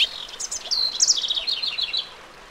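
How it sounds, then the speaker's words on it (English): A house wren sings along a riparian forest edge at Big Rock Creek in the Juniper Hills, California: a quick, bubbling cascade of high chirps and trills, fairly close and clear over quiet surroundings. "the most prominent bird song we hear is from the house wren"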